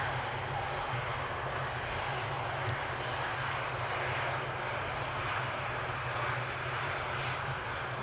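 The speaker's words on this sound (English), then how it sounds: "And a nice United Dreamliner takeoff there in the background." Jet airliner, a United Dreamliner, taking off at Amsterdam Schiphol airport, heard as a steady, broad engine roar that stays even and somewhat distant across the whole stretch.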